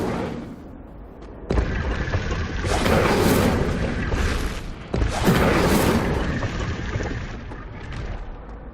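Incendio fire spell cast in Hogwarts Legacy, two loud whooshing bursts of flame several seconds apart, each swelling into a roaring rush and fading into a rumbling tail.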